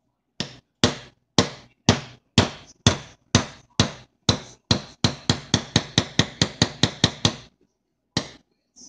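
A hammer taps a pin punch while detail-stripping a Smith & Wesson Shield pistol: about eighteen sharp, close metallic hits, evenly spaced at first and then quickening into a faster run, followed by a pause and one last tap.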